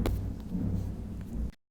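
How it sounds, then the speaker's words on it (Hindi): Thunder rolls during a rainstorm as a deep, steady rumble lasting over a second, fairly distant and muffled as if heard from indoors, then cutting off abruptly with no talking. "आप सुन पा रहे होंगे गाइस, बिजली कड़क रही है"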